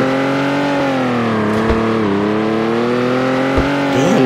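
Cadillac GTP race car engine in a driving video game, a steady high-pitched drone holding near one pitch with slight dips and two brief clicks, loud and continuous with no talk.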